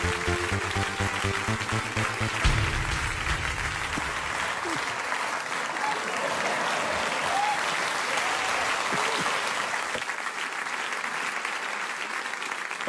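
Studio audience of a German late-night comedy show applauds loudly and continuously, with cheers mixed in, while music plays briefly at the start.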